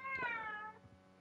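A domestic cat gives a single faint, drawn-out meow that rises and then trails off, indoors, heard alone with no talk.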